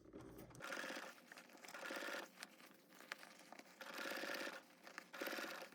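A sewing machine stitches a garment sleeve in several short bursts of rapid, even whirring, with brief pauses between runs. It is close and fairly quiet.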